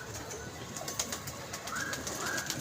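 Pigeons at a pigeon club give soft, low cooing that stays faint against steady background noise, with a couple of thin, higher calls near the end.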